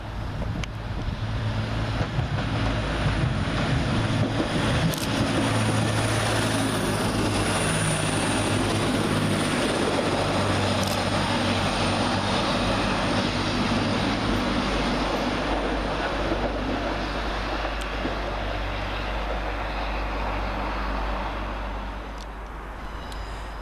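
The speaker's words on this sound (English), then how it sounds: "Coming around the corner for Transpennine Express is 185121, working 1K16 from Hull to Manchester Piccadilly." Transpennine Express class 185 unit 185121 approaches Guide Bridge station, a loud, sustained diesel rumble and roar that holds steady for the whole stretch before easing slightly at the end, with no voices.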